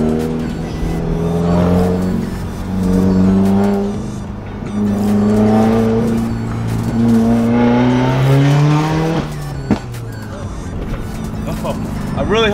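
A Subaru WRX engine revs loudly and repeatedly after intake carbon cleaning, the pitch climbing and falling in long surges, very close, with a brief click near the end.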